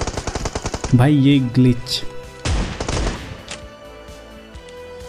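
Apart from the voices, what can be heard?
shotgun and M4 gunfire, from video game PUBG Mobile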